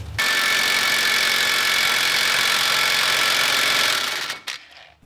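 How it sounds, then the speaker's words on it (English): An impact driver hammers a new wheel stud into a 1985 Pontiac Fiero hub, pulling it through with washers and an old lug nut. It makes a loud, continuous, close rattling buzz that runs about four seconds, then cuts off. "impact drive the bejeebus out of it until it seats"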